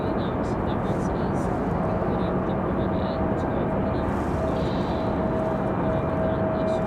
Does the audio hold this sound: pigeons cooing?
no